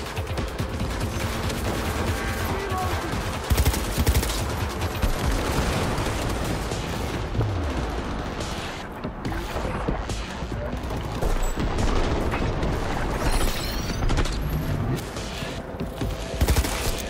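Heavy, continuous gunfire from a firefight in Cyberpunk 2077 Phantom Liberty, loud overlapping bursts and booms filling the whole stretch with no voice on top.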